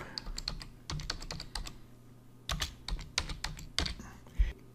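Rapid keyboard typing, bursts of clicking keystrokes in uneven clusters with short pauses, close and fairly clear.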